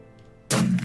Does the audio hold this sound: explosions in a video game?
yes